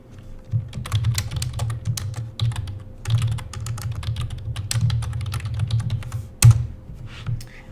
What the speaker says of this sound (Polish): Treść wprowadzamy po prostu wpisując ją z klawiatury i następnie zatwierdzając klawiszem Enter.